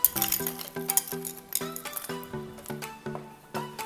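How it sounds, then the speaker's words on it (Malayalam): Ice cubes dropping into a glass of pomegranate drink, a quick run of bright, ringing clinks, about a dozen close taps in an uneven rhythm. "ഐസ് ക്യൂബ് ചേർത്ത് കൊടുക്കാം."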